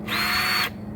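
A cordless drill fitted with a homemade battery adapter spins up, whines steadily for about half a second, then stops, with quiet room tone before and after.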